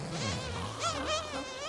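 A bee buzzes steadily beside its honey-filled nest in a cartoon setting, a continuous wavering drone with no speech.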